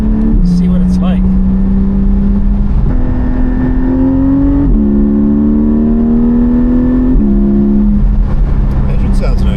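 A Porsche Spyder engine pulls hard through several gears, each rising whine cut by a short shift before climbing again, loud and close from inside the car.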